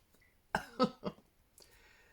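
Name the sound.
man coughing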